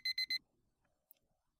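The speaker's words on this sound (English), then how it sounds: "So the timer finishes and you get the alarm." Three quick, loud electronic beeps from the PolyNome metronome app's timer alarm go off in even succession and then stop, leaving near silence.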